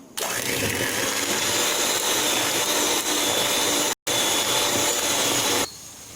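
Electric hand mixer beating margarine and sugar for a naked cake batter, a loud steady motor whir running nearly continuously with a brief cut partway, then stopping near the end.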